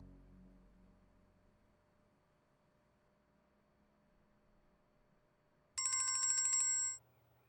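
A mobile phone ringtone for an incoming video call chimes in loud, bright repeating tones for about a second near the end, after a long quiet stretch of faint room hum.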